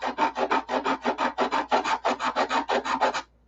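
Rapid back-and-forth sanding on a wooden tip rib, about twenty even rasping strokes in a steady rhythm, close and fairly loud with no voices, then stopping abruptly near the end.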